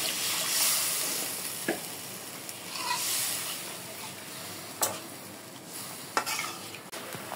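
Fish curry broth with fenugreek and tomato simmering in a pan on the stove, a steady hiss and sizzle with soft bubbling and a few sharp stirring clinks, close and fairly quiet, no talking.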